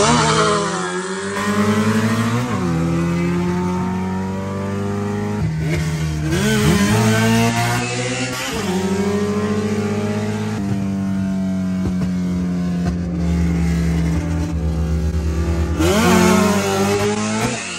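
Honda EG and EK race cars run with loud, close engines that rev and shift repeatedly, producing continuous rising and falling drones with no talking.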